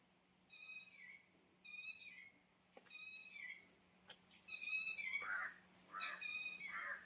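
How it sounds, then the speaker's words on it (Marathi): Birds call outdoors in a rural farm setting, repeated bursts of high chirping phrases with short gaps, a few sharper notes near the end, fairly faint and distant. "किती छान वाटतंय ना पक्ष्यांचा किलबिल आहे."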